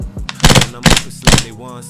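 Three sharp, punchy shots from an airsoft gun in a full YM9 loadout, fired indoors in an even, quick rhythm about half a second apart, close and loud with no talking.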